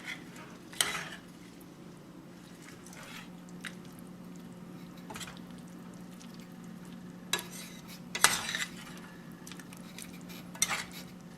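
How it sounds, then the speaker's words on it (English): Mongolian beef with green onion stirred in a pan, a steady faint sizzle broken by scattered scrapes and clinks of a utensil against the pan, with a few sharper knocks near the end. "I'm just going to give it a stir to evenly coat everything"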